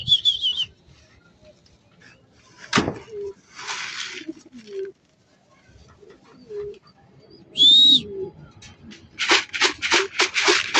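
Breeder pigeons coo in a cage, with low throaty coos scattered between short whistles and chirps, a few sharp wing or perch noises, and a burst of rapid calls near the end, all fairly close.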